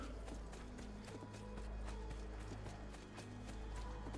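A horse gallops in Assassin's Creed 2 with a quick, steady clip-clop of hooves over a low rumbling background. The sound is faint and continuous throughout.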